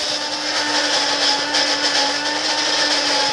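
An electric coffee grinder whirs steadily through Colombian coffee beans, a loud, continuous buzzing grind with no pauses, close by and alone.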